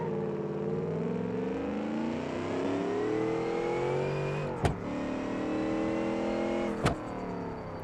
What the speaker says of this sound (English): Is that the turbo? That little whine?